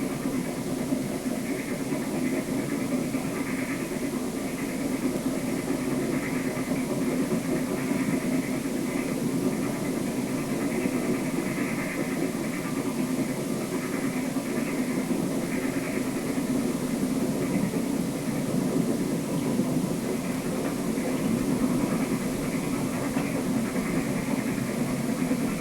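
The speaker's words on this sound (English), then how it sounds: "Relief train coming into Madison." A Maine Central relief train pulling into Madison, a steady heavy engine drone with rumbling low tones and rail noise, continuous and moderately distant throughout.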